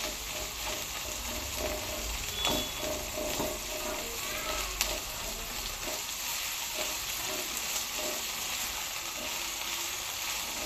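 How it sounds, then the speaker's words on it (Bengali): Dried loitta fish (Bombay duck) fries in cooking oil, a loud, continuous crackling sizzle with occasional sharper pops and faint stirring clinks, close and unbroken for several seconds. "দিয়ে দিব রান্নার তেল, একদম ঝাল ঝাল করে লটটা শুটকি ভুনা।"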